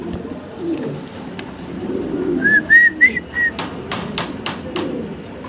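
Black-laced Shirtin fancy pigeons, a female in front and a male behind, coo softly at a breeding farm, with a short run of thin whistle-like calls and a few sharp taps near the end.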